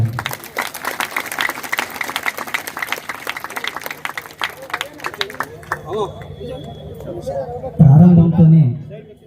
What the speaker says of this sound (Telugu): ఛత్రపతి శివాజీ మహారాజ్ కమిటీ సభ్యులకు అందరికీ ఒకసారి గట్టిగా చప్పట్లు కొట్టాలి